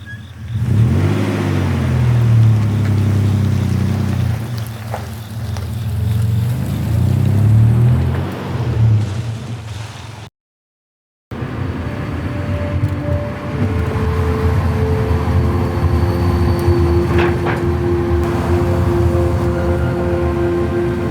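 A 4WD Toyota Tacoma truck on the road, its engine droning and rising in pitch as it accelerates, with steady road noise throughout and a brief dropout partway through.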